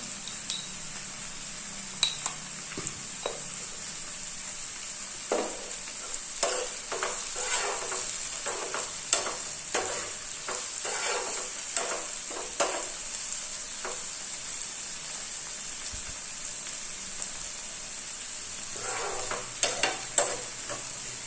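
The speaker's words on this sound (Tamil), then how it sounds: "தக்காளி நல்லா மசிஞ்சு வேகட்டும்" Tomatoes simmer and soften in a pan of pasta masala, a steady close sizzle with repeated scraping stirs of a spoon across the pan bottom, no voices.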